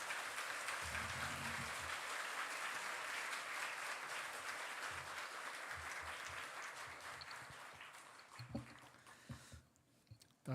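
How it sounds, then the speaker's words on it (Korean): A Sunday worship congregation gives a warm round of applause to welcome a visiting professor, sustained and even for several seconds before thinning out and fading to scattered claps near the end. "우리 교수님 사랑의 박수로 맞이해 주시면 감사하겠습니다"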